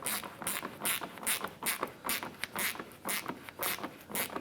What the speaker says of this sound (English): We're going to use our 10mm socket to go ahead and snug this bolt down to that clip